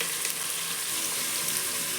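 Chopped onions fry in a hot pan with a fine, continuous sizzle, a dense crackling hiss that stays close and steady throughout, with no talking.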